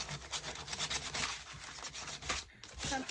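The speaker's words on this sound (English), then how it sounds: "I'm just going to do just a little bit of sanding around the transfers" Steady, quiet rubbing strokes of sandpaper scraping back and forth on painted wood, repeated in a loose rhythm with a brief pause near the end.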